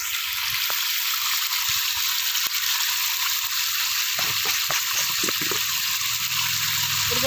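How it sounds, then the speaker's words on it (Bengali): Water splashing into a bucket at a village tube well during hand laundry, a steady bright rush with a few small knocks and clatters near the end. "প্রথমে বালতিতে আমি পরিমাণ মতো জলটা নিয়ে নিচ্ছি"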